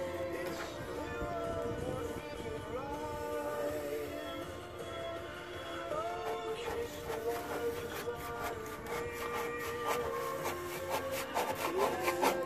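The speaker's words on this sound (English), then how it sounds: "I'm scraping it all over, look, using a scraper." A scraper works over bitumen on a Volkswagen T4 van, a faint, continuous rasping scrape with rhythmic strokes growing more distinct toward the end.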